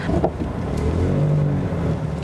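A MAXUS T60 pickup truck with a 2-litre diesel engine drives along, its steady engine drone loud and continuous throughout with a low rumbling tone and no talking over it.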